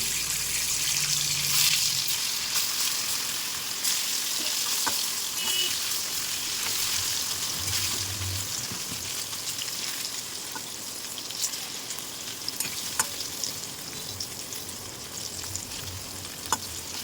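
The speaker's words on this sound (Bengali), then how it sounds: "এবারে আমি পনিরগুলোকে খুব হালকাভাবে ভেজে নেব" Paneer frying in hot ghee gives a steady, even sizzle with faint crackles and pops scattered throughout, close by and with no talking.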